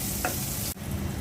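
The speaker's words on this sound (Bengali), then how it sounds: "বেগুন ভাজা তেলের মধ্যে পেঁয়াজ আর কাঁচামরিচ দিয়ে দিলাম।" Onion and green chilli fry in oil left from frying eggplant, a close, steady sizzling hiss with stirring and one brief sharp break partway through, no voices.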